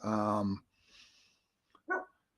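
A dog named Jake barks indoors, one loud sustained bark-howl followed by softer noises and a second short bark, with quiet gaps between them.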